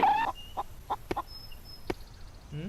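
Chickens cluck and a turkey-like fowl gobbles in the survival-building video game Solarpunk, a few short calls spaced apart with some sharp clicks, fairly quiet.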